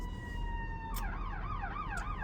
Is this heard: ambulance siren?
yes